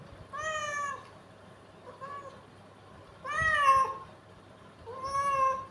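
A cat meows three times, clear and fairly close: a longer call, a short faint one, then two more drawn-out cries separated by quiet pauses.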